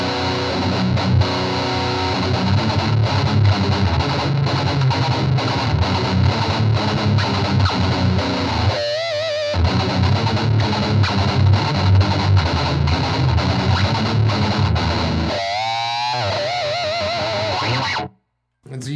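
Electric guitar through an EHX Nano Metal Muff distortion pedal, loud and heavily saturated, played continuously with brief gaps and a sudden cutoff near the end.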